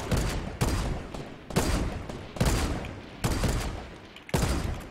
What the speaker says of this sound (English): I just hear grenade launchers going off.